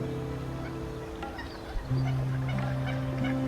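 Ducks calling outdoors in a marshland near Xeresa, Spain, a steady mix of honking and quacking calls that grows slightly louder partway through, with no voices.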